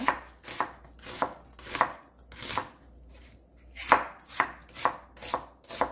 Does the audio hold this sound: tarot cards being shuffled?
no